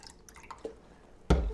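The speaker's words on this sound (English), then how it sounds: "I'll just pour a drop of the room temperature Blix in" Room-temperature Blix color film developer chemical poured in as a small splash, a brief faint drip early on and then a single louder liquid splash near the end, with no talking.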